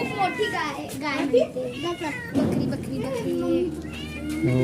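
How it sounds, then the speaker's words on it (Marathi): A hungry cat meowing loudly and repeatedly near a roadside stall and goat, its plaintive calls mixed with children's voices and people talking close by. "बघू शकता ही मांजर खूप रडतीये."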